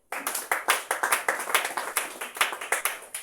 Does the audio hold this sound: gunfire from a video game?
no